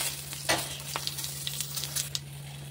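Asafoetida, cumin and dried red chilies sizzle in hot oil in a pan. The frying crackles steadily, with sharp pops and a few scraping stirs, over a low constant hum, and no one speaks.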